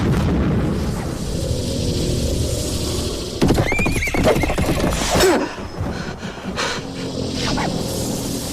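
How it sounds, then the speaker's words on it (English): A horse-drawn carriage in the film Sleepy Hollow rolls along a road with a steady rumble of wheels and hooves, as a horse lets out a loud whinny midway and snorts over the continuing rattle. "Sleepy Hollow kicks things off with a horse-drawn carriage"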